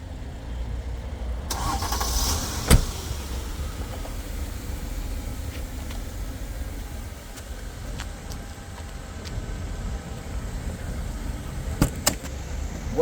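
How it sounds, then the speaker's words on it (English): A 2017 Mercedes-Benz car's engine starting up, a brief crank around two to three seconds in followed by a steady low idle rumble, with small clicks and knocks near the end. "if I start this car"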